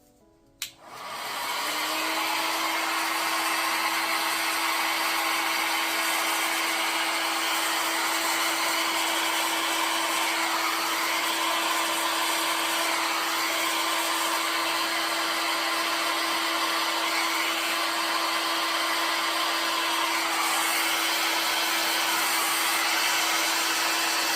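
Hair dryer set to high with the cool button on, blowing across poured acrylic paint in a fluid-art pour. A click starts it, then a loud, steady, close whoosh continues unbroken.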